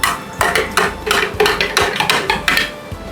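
A spoon clinks repeatedly against a glass while stirring lime basil syrup with sugar and sparkling water, giving a steady rhythm of sharp, close taps for a few seconds with no talking.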